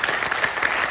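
Brief burst of audience applause at a business talk about founding the company NexMoney, dense steady clapping close by with no voices.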